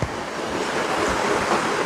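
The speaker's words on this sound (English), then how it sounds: "I can hear the rushing water." Rushing water flowing through a carved channel in springtime, heard as a steady, loud broadband roar like surf that holds constant for the whole stretch with no voices over it.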